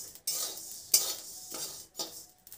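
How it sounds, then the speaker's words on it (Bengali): Dry whole spices with mustard seeds fry in a pan for a vegetarian sabzi masala, giving a bright crackling sizzle that swells and fades in short bursts, with occasional stirring scrapes, close and without talking. "এইটা একটু পরপর পরপর করে শব্দ হবে"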